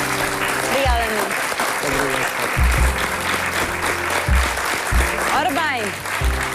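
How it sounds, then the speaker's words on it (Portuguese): Studio audience on a Portuguese afternoon TV talk show breaks into sustained applause, steady and dense clapping throughout, with a presenter's voice briefly heard over it. "Um grande aplauso para o Nuno."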